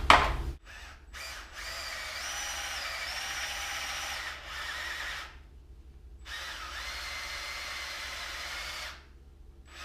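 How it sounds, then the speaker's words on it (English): A power drill whirs in several bursts, revving up and spinning for a few seconds at a time, with short silent pauses between runs, boring a hole on a tiller engine. "the existing hole will act as a guide for my drill bit"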